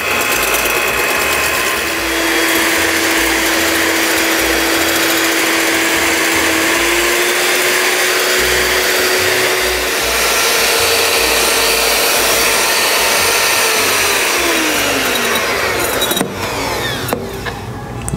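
Electric hand mixer whipping eggs into a foamy batter for chili relleno, a steady loud motor whir running unbroken for most of the stretch, then cutting off near the end.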